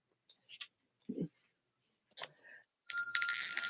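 A bell rings near the end, a bright sustained ring lasting under a second after a few scattered soft clicks and taps, with no talking.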